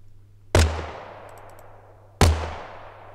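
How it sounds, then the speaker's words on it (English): Two sharp, loud shots from a homemade pipe gun sound effect built in Krotos Weaponizer, each a hard crack with a short ringing metallic tail, spaced well apart with quiet between. "it could sound more like a pipe gun or some sort of homemade gun"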